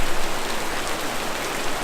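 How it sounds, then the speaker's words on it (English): Steady pouring rain at an outdoor art show in Longs Park, a dense continuous hiss of drops hitting surfaces, close and unbroken with no voices. "It's pouring down rain."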